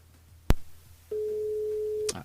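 A phone line ringing on a call to a radio station switchboard during a live broadcast: one steady, unbroken tone held for about a second, preceded by a sharp click and ending in a brief clatter, over faint room hiss.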